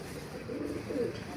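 Pet pigeons of the Teddy breed coo softly in low, rolling throaty calls close by, over a constant background hum.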